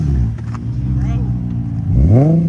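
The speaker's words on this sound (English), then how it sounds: "Rev that shit." An Infiniti G35 coupe with 124,000 miles has its engine revved, a loud, close, rising rumble that swells near the end, with voices talking over it.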